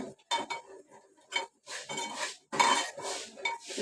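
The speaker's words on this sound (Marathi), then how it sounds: "मी हळद टाकते पाव चमचा हळद टाकली आहे ती चांगली फिरवून घेतली" A spoon stirs turmeric into besan and buttermilk kadhi in a pan, giving repeated metallic clinks and scraping in irregular bursts, close and fairly loud with no voices.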